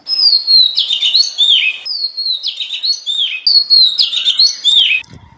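An oriental magpie robin, or doel, sings a loud, clear run of varied whistled phrases close by, with brief pauses between three repeated song bursts and no voices.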